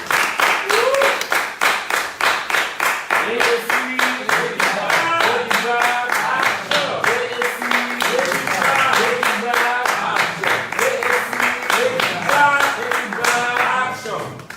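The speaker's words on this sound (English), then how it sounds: "Please give him a round of applause." Audience applause on a talk-show couch segment, steady dense clapping from a crowd, close and loud, running continuously with slight swells throughout.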